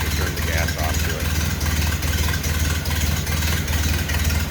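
1931 Ford Model A coupe engine idling at a steady, even pulse, loud and close, with a constant low rumble throughout.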